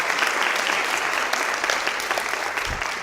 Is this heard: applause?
yes